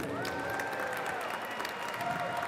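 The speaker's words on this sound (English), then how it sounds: "Un aplauso grandísimo." Audience applause at a Hispanic Heritage Month closing ceremony, steady dense clapping from a crowd throughout, with light cheering mixed in.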